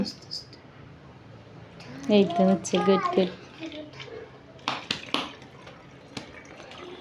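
Water trickles slowly from a household filter into a container in a thin, quiet pour, while a child and an adult talk over it.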